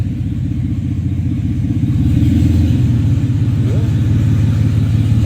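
Mitsubishi Montero engine idling and pulling in reverse inside a smoky shop, a steady low rumble that rises slightly partway through, close and continuous.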